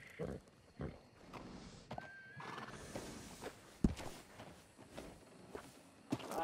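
Horse in Red Dead Redemption 2 whinnies and snorts amid hoof clip-clops and stable ambience, with a few sharp thumps and a brief rising whistle-like call; no talking.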